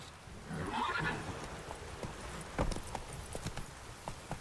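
A horse in the video game The Witcher 3 gives a loud whinny, followed by hooves clip-clopping and thudding in the game's ambient background.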